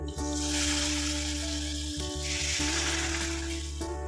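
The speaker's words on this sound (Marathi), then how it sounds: "गॅस बंद करून ही चटकदार फोडणी उकळणाऱ्या डाळीवर ओतूया" Hot spiced oil tempering poured over boiling dal hisses and sizzles loudly, a bright crackling fry that swells and ebbs with a few soft clinks.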